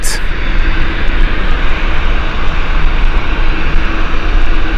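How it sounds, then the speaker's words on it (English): A TUI Boeing 787 airliner on its takeoff roll at Gatwick Airport gives a loud, steady, broadband jet engine roar that carries through the whole stretch without letting up. "TUI 787 heading off."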